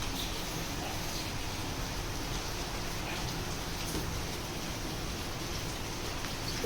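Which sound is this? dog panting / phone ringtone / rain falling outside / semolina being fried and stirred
rain falling outside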